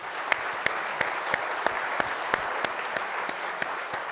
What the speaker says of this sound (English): we're going to clap for your family.